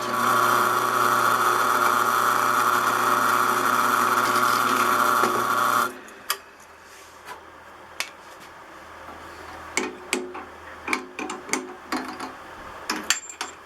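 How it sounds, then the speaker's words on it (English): A steady mechanical whine of a drill boring holes in a metal plate runs for several seconds and then cuts off, followed by scattered sharp clicks and taps of metal work. "I need to drill some holes that are 90 degrees to that particular plate"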